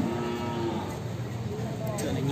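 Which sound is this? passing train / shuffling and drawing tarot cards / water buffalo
water buffalo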